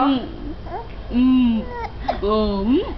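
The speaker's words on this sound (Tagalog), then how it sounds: "Yung baby ko maingay." A baby babbles loudly and noisily, with long sustained vocal sounds, squeals and rising cries repeated in bursts over about three seconds, close to the listener.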